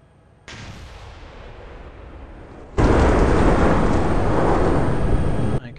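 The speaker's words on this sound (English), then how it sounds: "So it's automatically closed the hatch and fired the charge" Breaching charge fired in the Steel Beasts Pro PE tank simulation game: a sustained low rumble that jumps midway to a loud, broad roaring blast lasting several seconds, then cuts off abruptly.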